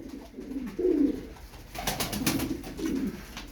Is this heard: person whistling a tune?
no